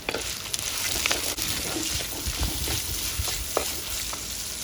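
Finely chopped onion and small shallots frying in a pan for fish head curry, a dense close sizzle with scattered spatula taps and scrapes, no voices.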